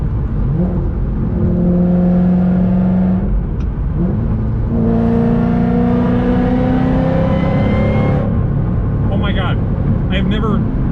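A built 1000hp Mustang GT500 accelerates hard through the gears, its loud engine note climbing in pitch with each gear before dropping at the shifts, then easing off near the end.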